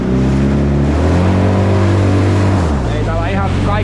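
Polaris MSX 150 Turbo jet ski engine revving on the water, a loud, steady drone that climbs and holds, then drops in pitch near the end, with a voice talking over it.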